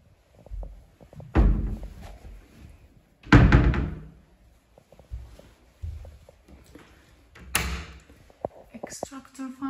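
Empty wardrobe doors are swung open and shut, making several loud thuds and bangs spread across the clip with quieter handling noises between them.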